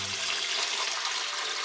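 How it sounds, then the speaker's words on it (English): Tap water runs into a soup pot already holding cabbage and freeze-dried tomatoes, a steady, close, hissing pour that lasts throughout with no one talking. "I'm going to fill this up with water."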